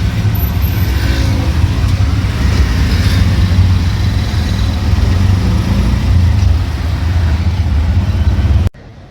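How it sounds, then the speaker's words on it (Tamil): Dense, slow-moving heavy road traffic in Pune, a loud continuous rumble of engines and tyres close by, steady throughout with no pauses, then cutting off abruptly at the very end. "டிராஃபிக் பாருங்கள் பயங்கரமாக இருக்குது. ஸ்லோவாக நகர்கிறது."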